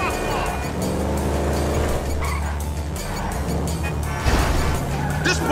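Loud, continuous engine roar of a motorcycle being ridden in GTA V, steady and close throughout with brief tire-squeal-like bursts and game noise layered over it.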